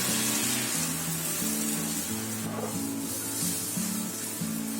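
Beaten egg for an omelette frying in an oiled pan, a dense steady sizzle close up with a faint low rhythmic hum underneath, no talking.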